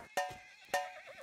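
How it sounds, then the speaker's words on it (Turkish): A horse in the survival game Rust neighs three times in quick succession, each whinny a bright, quavering burst rising sharply and then trailing off, heard alone and fairly quiet. "at kişnet diyor bu"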